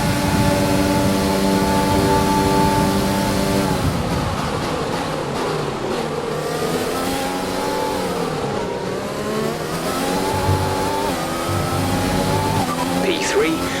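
A Formula One race car engine in the F1 2020 racing game revs loud and steady throughout, its harmonic whine holding and then sweeping up and down with gear changes, under a voice speaking in the first seconds.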